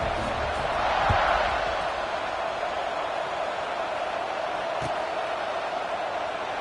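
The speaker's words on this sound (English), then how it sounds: "this crowd is buzzing after that last score" A football stadium crowd buzzing after a score, a dense, steady roar of many voices filling the air, with a brief swell of cheering and a few distant thumps beneath it.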